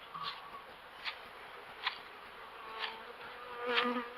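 Honeybees buzz close by at an apiary on a windy day, a steady drone with several louder passes as individual bees fly near, no talking.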